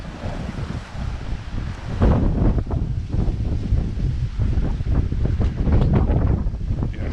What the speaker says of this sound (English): The wind's just beginning to pick up a little bit now.